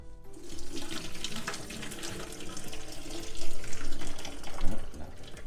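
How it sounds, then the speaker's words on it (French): Cooked rice vermicelli for pho being drained through a colander: a continuous, close splashing rush of water pours into a sink for several seconds, swelling louder near the end. "Bon c'est cuit, on va passer à la passoire."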